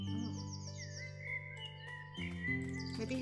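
Game birds chirp and trill in the FoxTail adventure, high repeated calls over a steady tonal music bed, moderately loud and continuous with no talking.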